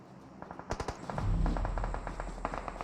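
Bursts of automatic gunfire rattle in a video game scrim, a fast run of sharp shots over a low rumble, moderately loud and close.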